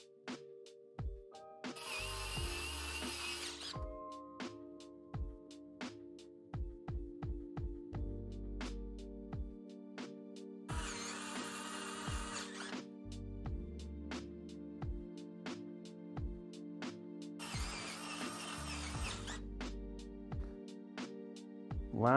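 Screws being driven in the final assembly of a Corsair 5000D PC case: bursts of ratcheting, clicking screwdriver work with brief buzzing runs and scattered small taps, close and moderately quiet.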